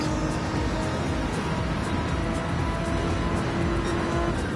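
A race car in a racing game accelerating at full throttle out of the pit exit, a steady, loud, buzzing engine drone that holds without letup, with no voices.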